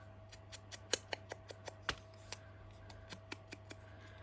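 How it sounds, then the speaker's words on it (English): Scissors snipping along paper edges to distress them for a junk journal page, a quick run of about a dozen crisp, close clicks in an uneven rhythm, with no talking. "I'm just going to distress the edges with my scissors"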